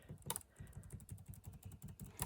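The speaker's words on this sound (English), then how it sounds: "I hit the enter button to accept it" Keys clatter on a computer keyboard in a rapid, fairly faint run of clicks, with a couple of sharper presses standing out.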